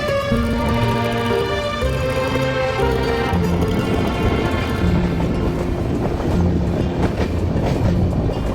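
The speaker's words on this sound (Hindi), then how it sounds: "भाई अभी जो ब्रिज ट्रेन पार कर रही है ना" A train crosses a very high railway bridge over a green valley, its loud, continuous rumble and rhythmic wheel clatter close and steady throughout, with a sustained horn-like tone in the first half and no talking.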